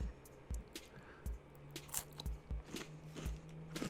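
Someone bites and chews a gas station candy bar up close, a string of soft crunches and wet chewing noises in an irregular rhythm, with no talking.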